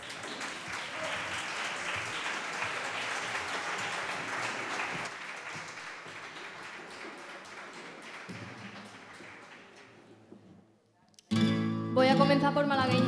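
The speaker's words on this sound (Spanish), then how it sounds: "Un aplauso para ella." Sustained applause from an audience at a flamenco singing contest fills the room for about ten seconds, fading out before loud music or singing abruptly begins.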